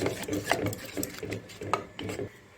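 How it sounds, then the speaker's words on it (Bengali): Semolina idli batter with curd and water being stirred in a bowl, a steady run of soft scraping, knocking strokes repeating about twice a second, close and moderately loud. "এবার জল দিয়ে দেবো, এবার ভালো করে মিক্স করে"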